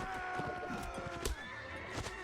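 A horse whinnies in the video game Mount and Blade Warband, with clip-clop hoofbeats and busy battle noise layered underneath at a steady level.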